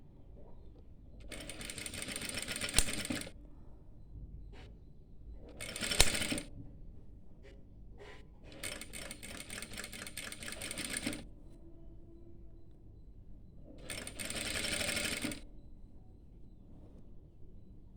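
A sewing machine stitches a petticoat in four separate bursts of rapid, whirring stitching, close and moderately loud, with quiet pauses and small clicks between runs.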